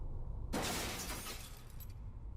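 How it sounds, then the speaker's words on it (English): A glass wall shattering in a video game after a chair is thrown into it, a sudden loud crash half a second in, followed by a spreading hiss of breaking glass and scattered tinkling shards fading out. "With a deafening crash, the glass shatters and flies everywhere."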